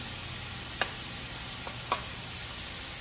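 Tomato and scallion stirred into a fish stew give a soft, even sizzle, broken by two or three light utensil taps against the pot.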